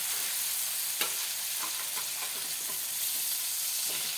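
Okra fries in oil in a pan over a flame, producing a steady, fairly quiet sizzling hiss with a few faint taps as pieces are turned, heard alone without talking.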